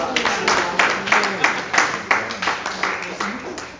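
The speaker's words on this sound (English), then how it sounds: "let's give that story a round of applause" An improv comedy show audience in a theater applauds, with dense, fairly loud clapping pulsing in waves while voices cheer over it.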